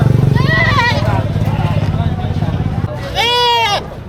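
Goats bleat loudly nearby, two wavering calls, over a steady engine rumble with a person talking, at a livestock trading market in the Philippines.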